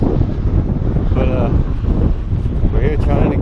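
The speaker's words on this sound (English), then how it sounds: "It's probably about 13 mile an hour wind gust." Strong wind gusts buffet the microphone in a continuous loud rumble outdoors while fishing, with faint voices and birdlike chirps briefly audible underneath.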